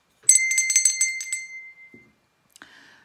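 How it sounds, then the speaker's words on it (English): A desk bell is struck several times in quick succession, bright metallic rings with a sustained tone trailing off, followed by a soft knock and one more faint ring near the end. "I've got a bell on my desk"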